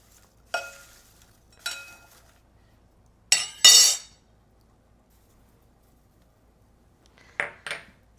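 A spoon tosses a buttered snack around in a bowl, making several separate bursts of clinking and scraping against the bowl with quiet gaps between them.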